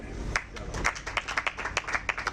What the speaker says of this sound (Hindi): अब मैं आपकी जोरदार ताली मचाऊंगा